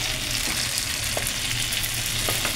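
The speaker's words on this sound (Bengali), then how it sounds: "এখন এটা তেলটা গরম হয়ে এসছে, আমি এবার বেগুনটাকে এর মধ্যে দিয়ে দিচ্ছি।" Eggplant and mango frying in hot oil in a pan, a loud, steady sizzle close up with a few faint stirring taps, with no talk.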